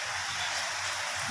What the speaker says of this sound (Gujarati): બહાર જોરદાર વરસાદ ચાલુ થઈ ગયો છે